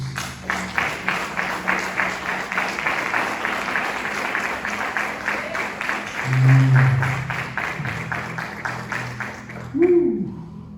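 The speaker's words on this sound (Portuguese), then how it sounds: "Aplauda Jesus" A church congregation claps in a steady rhythmic beat, loud and sustained for most of the stretch, with a voice and some singing tones under it before the clapping fades near the end.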